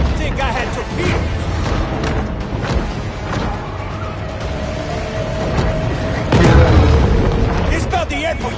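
Torpedo explosions in the Maneater video game, deep booming blasts rumbling beneath a busy game soundscape, with a heavier burst near the end, while a voice talks over them.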